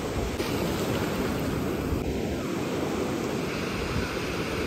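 Sea waves wash onto Bhatye beach in Ratnagiri, a steady broad surf roar with the rush of water continuing without pause, moderately loud and close.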